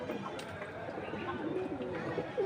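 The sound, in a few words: pigeons cooing outside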